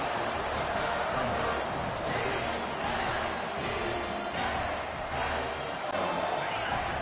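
Stadium crowd in the College Football 25 video game on PS5, a dense, steady roar of fans building late in a game, loud and continuous with rhythmic surges of cheering throughout.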